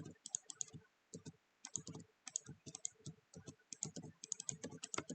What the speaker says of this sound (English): you're probably really enjoying listening to my my mouse clicks all the time as well.